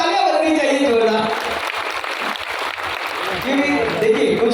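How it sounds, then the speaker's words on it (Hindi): Audience clapping at a Madhubani district foundation day celebration with a comedian on stage, a dense steady patter of applause filling the space, slightly swelling near the end. "एक बार तालियां बजनी चाहिए जोरदार।"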